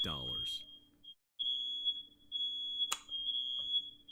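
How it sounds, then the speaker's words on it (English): A smoke alarm emits a steady high-pitched electronic tone, briefly cutting out and returning, with someone talking over it throughout. "That's a smoke alarm."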